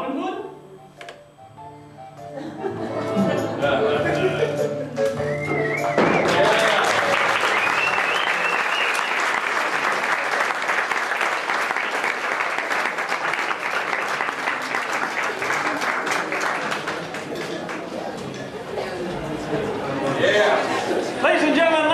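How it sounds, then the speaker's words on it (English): A large audience bursts into sustained applause for performers at a live comedy show, the clapping swelling after a few seconds and holding steady near and loud before tapering slightly, with a little chatter mixed in. "let us have a giant round of applause for all of our serial artists."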